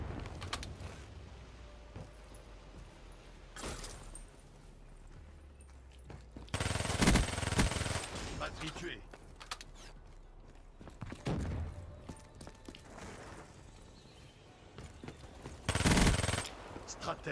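Bursts of gunfire from a Black Ops 3 multiplayer match, with loud volleys at a few points between quieter stretches of game sounds.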